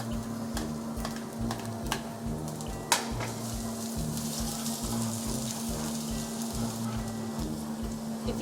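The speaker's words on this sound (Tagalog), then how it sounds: "it's the air fryer. Maingay rin talaga siya." A noisy air fryer runs with a constant fan whir and a steady hum, plus a throbbing, repetitive low pulse and scattered light clicks, close up and with no one talking.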